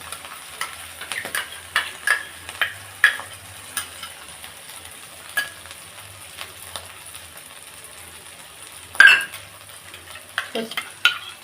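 Masala cooked down in oil in a pan for Bengali daab chingri, a soft sizzle under irregular scraping strokes of a spatula stirring, some sharper clinks against the pan.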